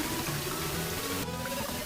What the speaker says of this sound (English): You see the water has started accumulating in the tank 1. It is flowing into the tank 2.